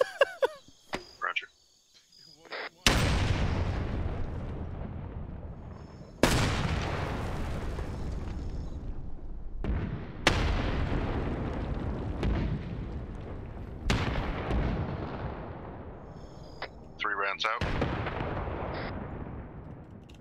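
High-explosive artillery rounds in a military video game, five heavy booms spaced a few seconds apart, each with a long rumbling decay, loud and alone with no talk.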